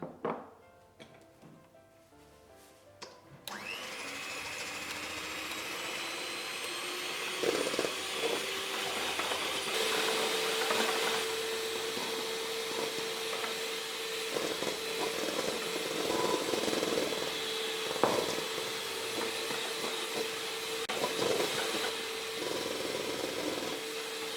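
An electric mixer whips egg whites with sugar and a pinch of salt for meringue, a steady motorized whir running continuously at close range with small shifts in pitch as the mixture thickens.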